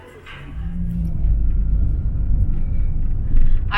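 A car drives along a road in Cebu, Philippines, giving a low, continuous engine and tyre rumble from inside the vehicle, with faint brief noises over the top.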